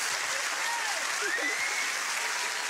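Steady applause from a television studio audience fills the clip, dense and even throughout, with a few faint voices rising over the clapping.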